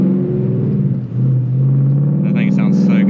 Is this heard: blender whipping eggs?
no